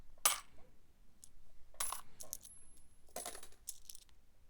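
Coins dropping while being sorted, including British and foreign silver pieces, with several distinct metallic clinks and jingles in separate bursts, close and fairly quiet against a still background.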